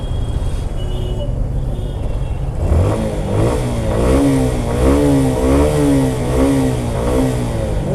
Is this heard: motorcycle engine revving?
yes